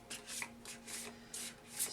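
Tarot cards shuffled by hand during a reading, giving soft rhythmic riffling bursts, about five quick swishes in a row, close and quiet with no talking.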